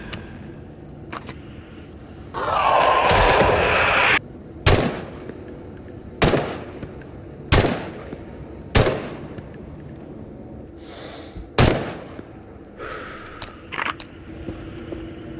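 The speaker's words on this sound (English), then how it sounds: "getting gunned down by the BTR" BTR armored vehicle gunfire in the video game Into the Radius: a sustained burst of automatic fire, then several sharp single shots spaced about a second apart, moderately loud over a quiet background.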